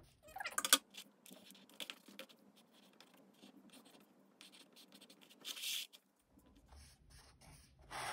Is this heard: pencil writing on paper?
yes